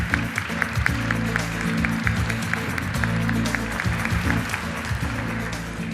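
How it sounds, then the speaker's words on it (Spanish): Audience applause at a large science and society congress in Chile, a dense steady wash of clapping with low rumble and crowd noise underneath, sustained throughout. "Un aplauso para ella."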